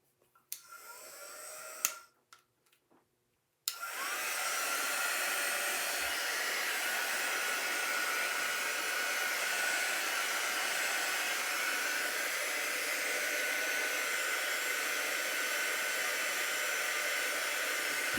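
Hair dryer blowing over freshly applied chalk paint on a reclaimed wooden drawer front, starting after a few brief clicks and short bursts, then running as a steady, close whooshing hiss to the end.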